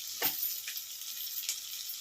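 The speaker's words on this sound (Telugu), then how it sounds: "అల్లం వెల్లుల్లిపాయ పేస్ట్ కొంచెం బాగా వేగాక" Ginger garlic paste fries in a pan with a steady hissing sizzle, broken by a few brief stirring scrapes and spatters, close and fairly quiet.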